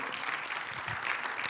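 Steady applause from a church congregation during a Spanish-language evangelical service, dense continuous clapping filling the room without a break.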